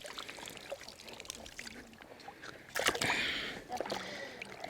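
Water pours into a cooking pot onto pieces of meat for a rice and meat dish, a short splashing gush in the middle over a quiet kitchen background.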